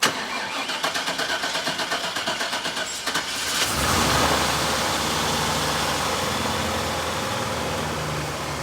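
A car engine is cranked with rhythmic starter chugging for a few seconds, catches with a loud roar, then settles into a steady idle that holds close and loud to the end.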